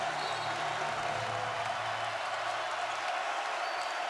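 Basketball arena crowd in Champaign cheering at an Illinois home game against Gonzaga, a steady broad roar of many voices sustained throughout, with some low rumble underneath.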